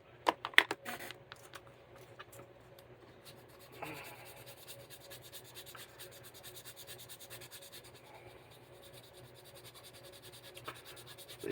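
Steady scratchy rubbing and sanding on a long pacer build, close and fairly quiet, with a few sharper scrapes early on and no talk.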